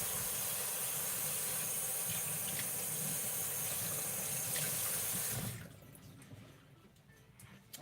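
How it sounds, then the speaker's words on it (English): A cutting board is rinsed under a running kitchen tap, a steady loud hiss of water splashing with faint knocks of the board, lasting several seconds before the tap shuts off abruptly, leaving quiet room tone. "So I'm gonna give this cutting board a rinse."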